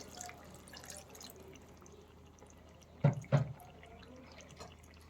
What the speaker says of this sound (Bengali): এখন আমি এর মধ্যে দিয়ে দিচ্ছি হাফ কাপ পরিমাণ দুধ